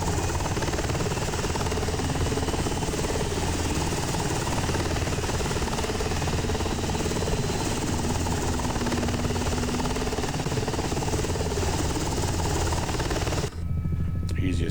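The rotor and engine of an SH-60 Seahawk helicopter in a flight simulator: a steady, loud, droning whir with a constant buzz for the whole stretch, then it cuts off abruptly near the end.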